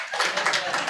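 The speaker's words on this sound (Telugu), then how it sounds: "ఇప్పుడు చప్పట్లు కొట్టు సార్ వెంకటకి." A church congregation gives a brief, dense burst of applause lasting about a second.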